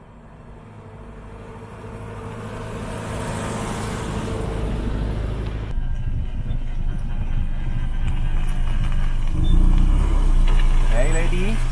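A Forester drives along a dusty path in Spain's Monegros Desert, its engine and tyre rumble building into a steady, loud drone, with voices talking over it.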